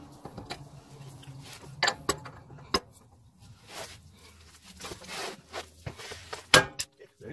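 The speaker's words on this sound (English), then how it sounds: "there ain't no room for me to do it, so I'm gonna have to use a breaker bar" Breaker bar and socket working loose a lower ball joint on a Toyota Tacoma, Tundra or 4Runner, heard as scattered sharp metallic clicks and knocks with creaking, rubbing strain between them, close up.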